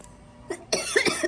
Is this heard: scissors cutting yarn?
no